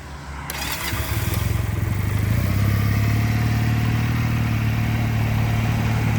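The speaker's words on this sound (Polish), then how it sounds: "Dźwięk silnika jest bardzo podobny." A Junak M11 Cafe motorcycle engine catches and settles into a loud, steady idle, with a brief clattery start before the low, even engine rumble continues close by and alone.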